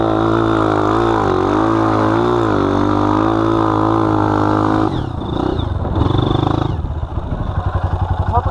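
A Honda CRF 230 dirt bike engine drones loudly and steadily on a coastal trail ride, its pitch rising and falling with the throttle before turning rougher and choppier as it revs and settles.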